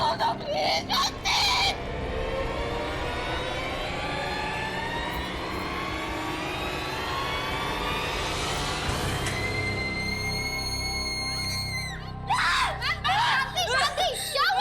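A woman's long, drawn-out scream rises and holds for about ten seconds, loud and piercing, in a horror drama scene. Brief noisy sounds come just before and after it.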